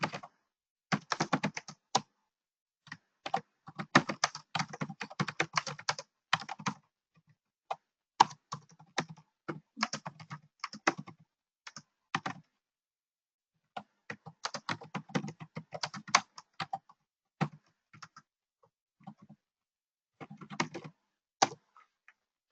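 Typing on a computer keyboard in quick bursts of clicking keystrokes, close and clear, separated by short pauses, with no talk.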